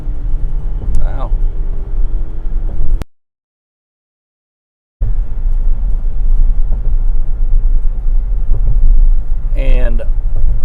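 A car races past at high speed on a road, giving a loud, continuous roaring rumble that briefly cuts out to silence before the heavy rush resumes.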